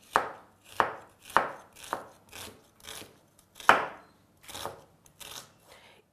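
A knife slices an onion into rings on a cutting board, about a dozen crisp, close chops in an uneven rhythm, each one sharp and fading quickly, with no talking.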